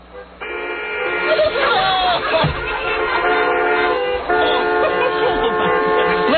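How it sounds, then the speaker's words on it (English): Car horns honked by radio show listeners over phone lines, a dense overlapping blare of sustained tones and toots filling the whole stretch, loud and continuous with brief dips, with voices mixed in. "Honk your horn."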